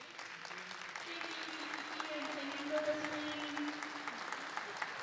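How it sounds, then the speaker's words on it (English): An audience applauds at a Sydney-Glace Bay candidates' debate, with steady, fairly faint clapping from a crowd lasting several seconds. A voice talks quietly under the clapping. "A round of applause for Joe Ward"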